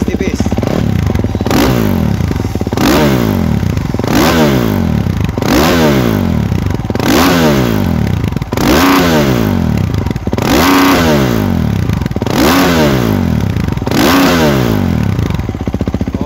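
A Kawasaki KX450X dirt bike engine revs close by in repeated blips, each rise and fall coming roughly every second over a loud, steady idle.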